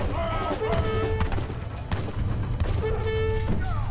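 Gunfire and heavy booms ring out as a factory is destroyed in an Age of Empires 3 match, repeated shots and thuds over a tonal game soundtrack, fairly loud and continuous.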